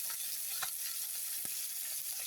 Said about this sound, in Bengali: আমার মাছ ভাজা রেডি